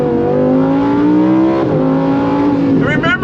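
A 2024 Lamborghini Huracan Sterrato V10 on off-road all-terrain tires revs steadily, its engine note climbing, then dropping briefly as it quickly downshifts and rising again, loud and close, with a voice talking over it.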